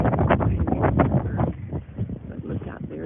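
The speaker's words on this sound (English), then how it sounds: "It's really windy." Gusty wind buffets the microphone outdoors in the Smoky Mountains, a heavy rumbling roar that swells and eases, with faint rustling underneath.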